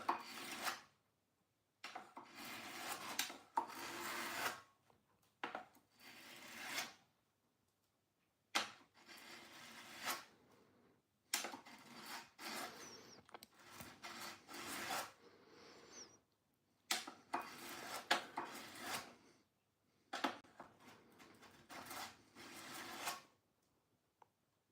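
An Omega Speedmaster MK II watch case is lapped by hand, giving repeated bursts of close, rasping rubbing and scraping strokes separated by short pauses, with no talk over it.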